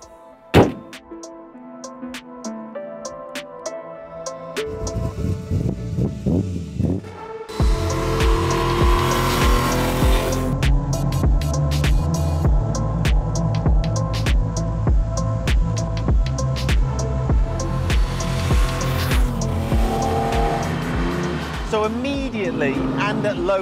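A 1966 Ferrari 275 GTB Competizione being driven: after a quieter opening, a loud engine note swells in, with strong harmonic tones that rise and fall as it revs and pulls away.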